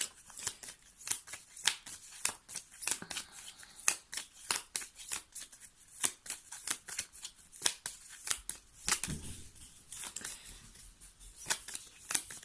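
Tarot cards are shuffled by hand in a steady run of crisp riffling flutters and soft slaps, close and clear, repeating for several seconds without any talking.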